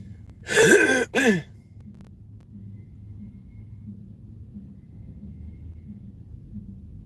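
Two quick, loud coughs break out close by, followed by a quiet low background hum.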